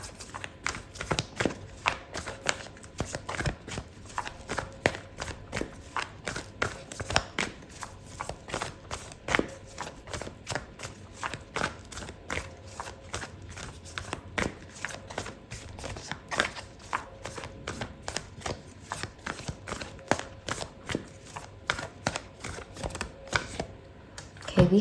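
Oracle cards being shuffled by hand, a steady rapid patter of soft papery flicks and riffles continuing for a long stretch, close and clear with no talking.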